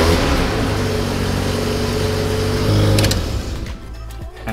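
A Mazda RX-7 rotary engine runs steadily at idle just after an oil change, with a loud, buzzy, continuous drone that eases slightly near the end.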